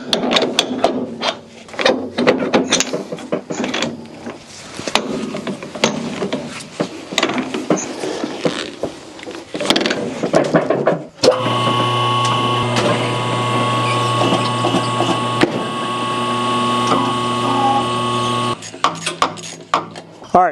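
A tire bead is broken loose on a wheel so its TPMS sensor can be rebuilt. Scattered clanks and knocks lead into a loud, sustained mechanical whine and grind that lasts several seconds and then cuts off.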